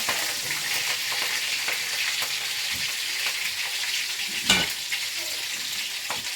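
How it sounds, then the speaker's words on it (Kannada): Green chillies frying in hot oil make a steady, bright crackling sizzle that runs throughout, with occasional stirring knocks and no talk. "ಫಸ್ಟ್ ಗ್ರೀನ್ ಚಿಲ್ಲಿ ಹಾಕ್ಕೋತಾ ಇದ್ದಾರೆ ಬ್ರೌನ್ ಕಲರ್ ಬರಲಿ"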